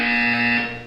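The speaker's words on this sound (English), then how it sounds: "When you hear the buzzer, look down at the floor." A loud, steady electronic buzzer tone in the video game Portal 2 sounds alone for about a second before tapering off.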